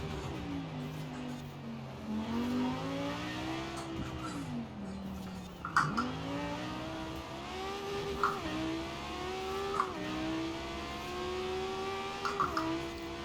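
Italdesign Zerouno engine in Forza Horizon 4, revving up through gears with quick shifts marked by pitch drops and short pops, steady and fairly close.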